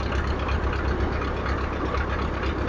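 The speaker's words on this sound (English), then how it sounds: "tractor in the background that you can hear I've just filmed is the International Junior" An International Junior tractor, an old rusty European-built machine at a vintage show, runs steadily in the background with a low, continuous engine rumble and no talk.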